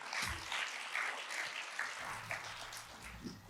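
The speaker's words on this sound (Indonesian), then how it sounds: "Kasih tepuk tangan buat Tuhan kita." A church congregation claps for several seconds after a sermon, a soft, fairly distant patter of hands with a faint low hum beneath it.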